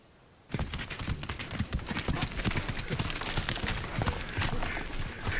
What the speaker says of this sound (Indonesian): Saat ini Gumbei sedang berburu di suatu hutan dengan kuda kesayangannya